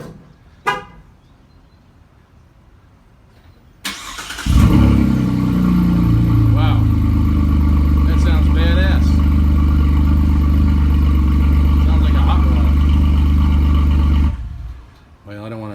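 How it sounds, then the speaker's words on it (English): After a click and a short horn toot, a 2017 Chevy Colorado V6 engine with straight-pipe exhaust roars to life and runs loud and throaty for about ten seconds before cutting off. "what it sounds like when there's no exhaust hooked up. How about straight pipe?"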